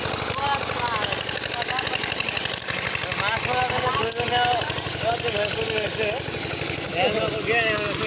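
An engine-driven machine pumps water from a river during fishing, with a loud, rapid, steady chugging throb that runs throughout while people talk over it.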